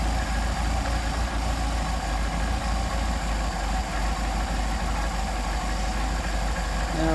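A car engine fitted with a Solex carburetor idles at low RPM, around 700 to 800, with a steady, close, even rumble that holds a constant level throughout.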